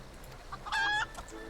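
A green-painted tamed rooster in Final Fantasy XIV lets out a short, bright cluck-crow lasting about a third of a second, with a few soft clucks around it, close and clear.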